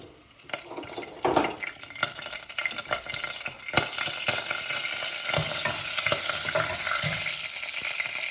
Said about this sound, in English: I'm gonna turn the stove into low because I'm gonna be adding my curry leaves.